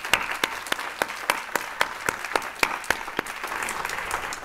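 Audience applause at a public policy symposium after organizers are thanked: dense, steady clapping from a crowd, fairly close, with sharper individual claps punctuating the wash and no talking over it.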